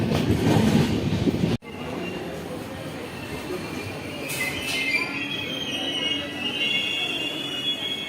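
A Secunderabad–Guntur intercity passenger train rolls near Mangalagiri station. A loud rumble cuts abruptly into steady wheel noise with rail clatter and high metallic squeals, heard from inside the moving coach.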